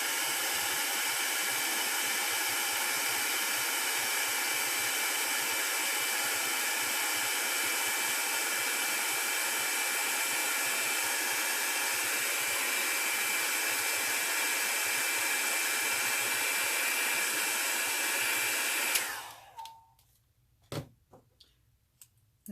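A hair dryer blows steadily and loudly over an alcohol ink painting for about nineteen seconds, then cuts off, leaving a few faint clicks and taps.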